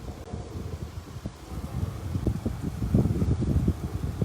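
Gusty wind buffets an outdoor microphone, a rough low rumble that starts moderate and grows stronger and steadier toward the end, with no voices.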